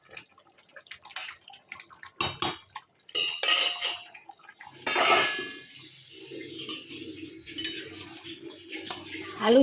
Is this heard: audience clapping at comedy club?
no